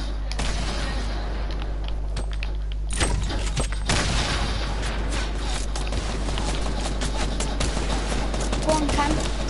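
Rapid video game gunfire rattles in dense bursts while shooting down building bases, with louder volleys near the start, continuing loud beneath occasional player chatter.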